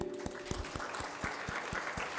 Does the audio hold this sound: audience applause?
yes